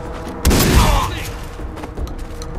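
A heavy shotgun blast in the Far Cry 3 video game booms loudly once, then rumbles and fades amid faint game noise, with a short second thump underneath.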